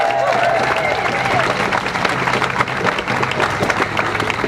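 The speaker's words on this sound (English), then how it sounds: "I want a round of applause for all of you for walking these lines" A crowd of striking faculty union members and supporters at an outdoor picket-line rally applauds, with dense sustained clapping and a few faint cheers throughout.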